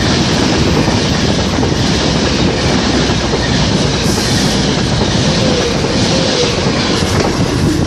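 A Class 390 Pendolino train sweeps through a station at Liverpool South Parkway with a loud, steady rush of noise, rail clatter and faint wheel squeal, heard close and continuous throughout.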